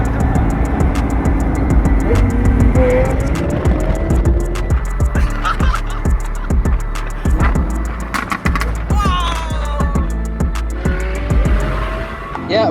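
Modified Lamborghini Huracan fitted with an aftermarket exhaust, a carbon fiber rear wing and a Performante front bumper, driving past with rising and falling engine tones, crackles and pops over dense traffic noise, with some voices in the background.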